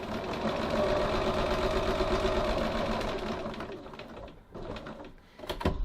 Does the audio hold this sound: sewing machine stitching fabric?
yes